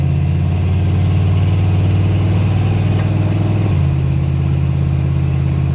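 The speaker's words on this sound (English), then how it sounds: "gonna go ahead and do this little drive on the truck so you can hear what it sounds like on the inside" A square body Chevy truck with a budget 2.5-inch exhaust, heard from inside the cab while driving, gives a loud, steady low engine drone that shifts pitch near the end as the revs change, with no talking.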